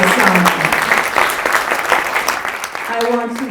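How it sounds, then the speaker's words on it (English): Applause from a seated audience for the Consul General at a women-in-diplomacy panel, a loud dense burst of clapping that tapers slightly, with voices heard over it near the end. "One more round of applause for the Council General"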